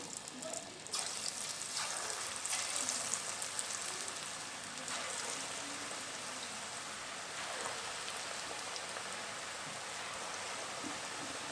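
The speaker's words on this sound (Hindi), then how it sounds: "अब इसके अंदर हम पकोड़े डालेंगे।" Pakoras sizzling in hot oil in a kadai, a steady close crackling hiss like rain that runs throughout, with a brief quiet voice.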